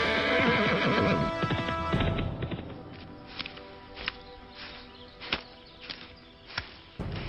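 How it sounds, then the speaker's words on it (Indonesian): Cartoon horse neighing loudly at first, then hooves clip-clopping in a steady rhythm with sharp accented beats, fairly close, with no talking over it. "Wah, bunyi kaki kuda."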